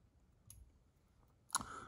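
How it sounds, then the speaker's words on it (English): Scissors snip close to the hook, trimming flash while a Barr's Emerger fly is tied: a faint click, then one sharper, brighter snip near the end. It sounds close and quiet, with no talk. "Just slide your scissors all the way down as far as you can."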